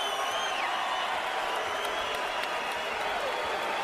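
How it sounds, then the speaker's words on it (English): A boxing arena crowd at Barclays Center stands and cheers, with dense, continuous applause and roaring that holds at a steady level throughout. "Crowd's on its feet in the Barclays Center."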